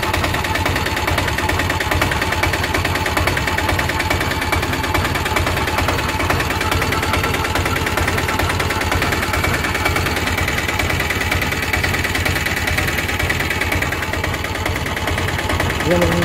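An Ape City Plus auto rickshaw engine, just rope-started, runs steadily at close range with a dense, rapid chugging rattle that holds for the whole stretch, loud and continuous without pause.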